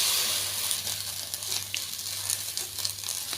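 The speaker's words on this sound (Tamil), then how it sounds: "இப்போ கடாய் நல்லா சூடானதும் வெண்டைக்காயை சேர்த்துக்கலாம். சேர்த்து லைட்டாக வதக்கிக்கலாம்." Okra is sautéed in a hot kadai with a continuous close sizzle and crackle over a low steady hum, with no one talking.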